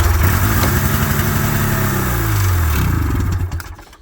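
An old Ski-Doo snowmobile engine cranks and sputters loudly without catching, a dense rhythmic mechanical chugging that winds down and fades out near the end.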